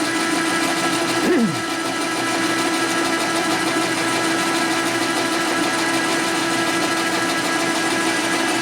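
A Harley transmission part is machined dry without coolant, a steady close whirring cut with a faint hum and one brief tonal sweep near the start, shedding chips continuously.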